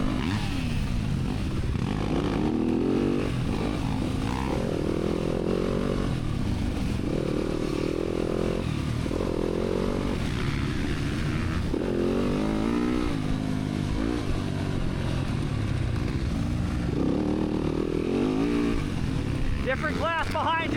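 Race motorcycles, including a sportsman-class machine and 600-class bikes, pass on a track: a continuous roar of engines rising and falling through gear changes, heard under ongoing talk.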